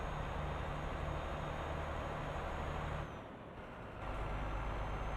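A Volvo FH truck cruises at motorway speed in Euro Truck Simulator 2, its engine a steady loud drone with a brief dip in level before it resumes.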